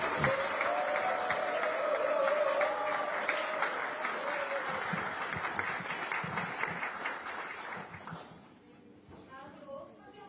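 Applause for lawmakers from South Jeolla at a party meeting, a crowd clapping steadily and loudly for several seconds under a voice on a microphone, then fading out.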